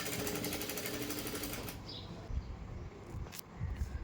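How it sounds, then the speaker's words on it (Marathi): A sewing machine stitches a fabric seam with a little over a quarter-inch margin. It runs with a fast, even rattle for under two seconds, then stops, leaving quiet handling sounds. "शिवणार आहे"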